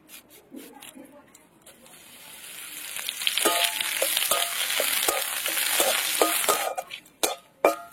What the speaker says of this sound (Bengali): নিম পাতাগুলো ভালো করে ভেজে নিয়েছি